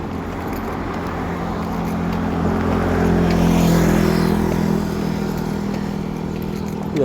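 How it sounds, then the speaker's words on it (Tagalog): Road traffic of cars and motorcycles passing along a street during a morning walk, a continuous engine rumble that swells as a vehicle goes by and then fades back to a steady hum. "Dami ng sasakyan. Puro traffic."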